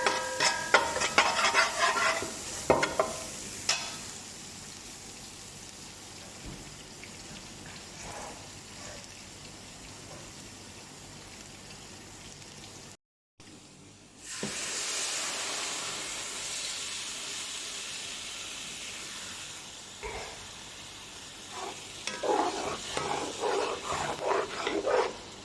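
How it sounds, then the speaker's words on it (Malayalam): A masala with blended ripe tomato is stirred and fries in a pan, giving soft scraping and low sizzling with a brief gap midway. "ഇളക്കിയതിൻ്റെ പച്ചമണം പോകുമ്പോൾ ഇളക്കി കൊടുക്കുക"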